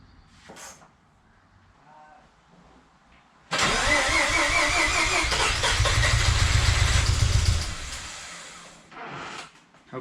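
A Mazda RX-7 FC rotary engine cold start: after a quiet stretch the engine cranks and catches loudly, runs roughly and unevenly for about four seconds, then shuts off.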